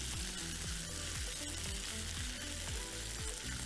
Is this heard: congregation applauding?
no